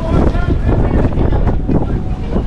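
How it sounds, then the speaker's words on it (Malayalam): Cold wind blusters across the open-air 86th-floor observation deck of the Empire State Building in New York, roaring steadily against the microphone in loud, buffeting gusts. "എന്തായാലും നല്ല തണുത്ത കാറ്റുണ്ട് പുറത്തിറങ്ങിയപ്പോൾ."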